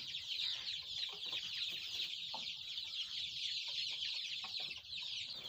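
Many young Aseel chicks and fowl in a small farm enclosure, a dense steady chorus of high cheeping and clucking throughout, close and loud with no talking.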